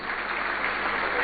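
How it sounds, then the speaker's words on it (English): Studio audience applause on a Ghanaian afternoon television show, a steady broadband clapping that fills the short stretch at an even, fairly loud level with no voices. "Please, let's give her a round of applause."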